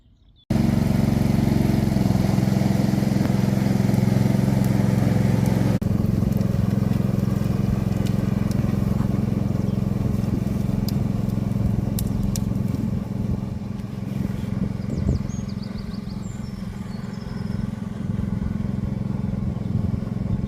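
A small tractor engine runs continuously close by, a steady rumbling drone that shifts slightly in tone, with no one speaking.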